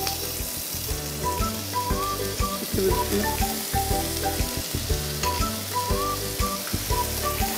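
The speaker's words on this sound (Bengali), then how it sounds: "আচ্ছা, আমরা সরাসরি র চিকেনটাকে দিয়ে দিলাম।" Raw chicken strips fry in a pan, a loud continuous sizzle and crackle close by with stirring scrapes, no voices.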